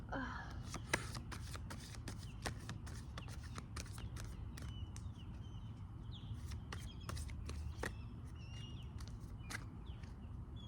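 Tarot cards being pulled from a deck and laid down, a steady run of quiet soft card slaps and shuffling rustles over low room noise, with no voice.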